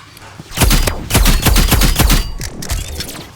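Shotgun fire in the Roblox game Rivals, a rapid run of loud, punchy blasts packed closely together over about two seconds, then a quieter shot or two trailing off.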